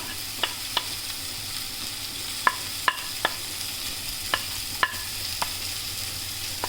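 Capsicum sizzles and fries in a pan for chicken spaghetti while a spoon stirs it, giving a steady close hiss broken by a dozen or so sharp utensil scrapes and taps at uneven intervals.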